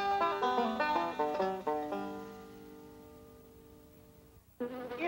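A fly buzzes in a 1976 Sesame Street scene. Buzzy, droning tones rise and fall in short stepped bursts, then one long tone thins out and fades before a brief loud buzz returns at the end.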